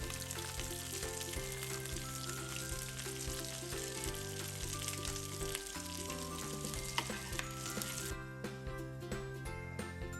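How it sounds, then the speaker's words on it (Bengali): Egg cutlets frying in a pan for a Ramadan iftar snack, giving a steady, loud, close sizzle with crackling oil and occasional light clinks of a utensil, with no talking. "বাকিগুলো এভাবে করে ভেজে নিব।"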